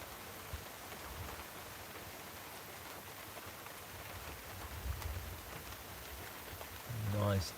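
Rain drumming on a car during a storm, a steady soft hiss of drops on the roof and glass, fairly faint, with a low thump near the end.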